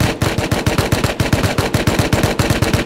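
Rapid automatic gunfire in the survival video game Rust, during a raid on an iceberg base, with a steady stream of loud, closely spaced shots running throughout and no talk.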